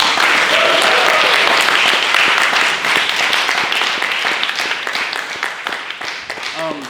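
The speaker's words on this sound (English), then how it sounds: "Yo, can we get another round of applause for Ramsey?" Loud applause and clapping from an audience for a performer at a musical celebration finale, strong at first and gradually thinning, with a few brief voices and cheers mixed in.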